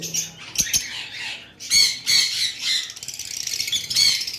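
Pet high-mutation lovebirds in a sale aviary give sharp chirps and harsh squawks in uneven clusters, some overlapping, close and fairly loud with no talking.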